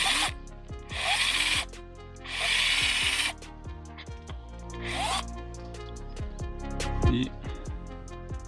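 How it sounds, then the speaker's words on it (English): A power drill bores a tap hole into a birch tree for sap, whining in several loud bursts with short pauses between them, the motor rising and falling as the bit cuts into the wood. "we'll drill here."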